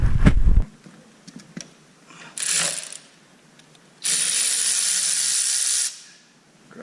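A ratchet works on the bolts of the diesel pump on a Mk4 Escort van, heard as two loud, close bursts: a short one, then a longer sustained one, with faint clicks and quiet gaps between them.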